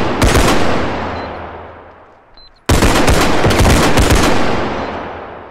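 Heavy automatic gunfire in the video game Bodycam, two loud, close bursts of rapid shots with a long echoing decay and a brief near-quiet gap between them.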